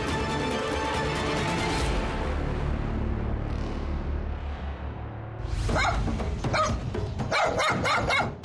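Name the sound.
dogs barking at dog farm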